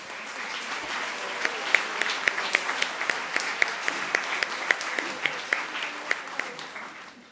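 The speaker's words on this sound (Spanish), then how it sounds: "Un aplauso para ellos." Applause during a Catholic Pentecost Sunday Mass in church, a large congregation clapping steadily with sharp individual claps standing out, sustained for several seconds with no talking over it.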